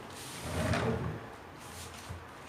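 A wide drawer in a home bedroom slides shut during a clothes-organising session, giving a brief rolling scrape that ends in a soft knock near the mic, with no talk over it.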